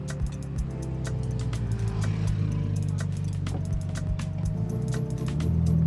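The retractable hard-top roof of a Ferrari Portofino M folds open: a steady electric motor whir runs throughout with a series of mechanical clicks and clunks, close up, and no one talks.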